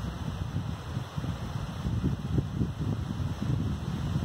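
Wind blows outdoors near open water, a steady low rumbling gust against the microphone with gentle swelling and fading, and no talk.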